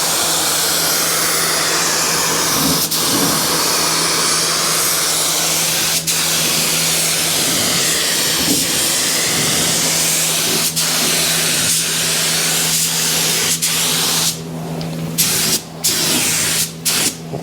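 A spray gun laying flat black paint on a car door, a loud continuous hissing spray held close for the whole stretch, with brief clicks and bursts of air near the end and no voices.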